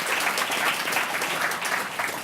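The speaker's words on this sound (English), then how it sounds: "Can we give them a round of applause?" A room full of people at a Canada150&Me forum in Montreal breaks into steady, dense applause, the clapping loud and sustained throughout without a break.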